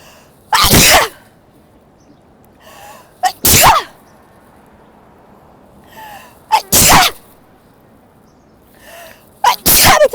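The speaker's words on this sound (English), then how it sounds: "How many times I sneeze? 6 times?" A person sneezes repeatedly, four loud, sharp, close sneezes spaced a few seconds apart, with small breaths and quieter sounds in between.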